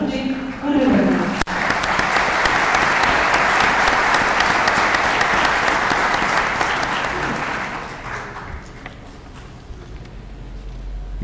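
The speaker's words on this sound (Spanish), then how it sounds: "Recibamos un fuerte aplauso al primer expositor de esta noche, Julio Hernández" An evening lecture audience in Bolivia applauds the first speaker: after a brief voice, a loud, dense burst of clapping swells quickly, holds steady, then thins out and fades near the end.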